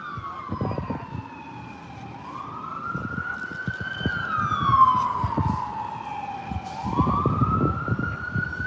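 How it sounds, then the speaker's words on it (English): A county sheriff's siren wails up and down in long sweeps as it passes by, heading northbound in Bloomington, Indiana, over steady traffic rumble and a few thumps. "Here's sirens from the south, heading northbound again"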